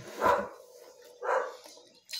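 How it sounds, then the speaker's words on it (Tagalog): A neighbor's dog barks at a distance, two broad, muffled barks about a second apart, faint and unaccompanied, followed by the start of a third. "Ingay ng aso ng kapitbahay ko."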